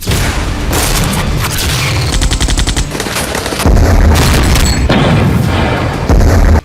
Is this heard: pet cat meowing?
no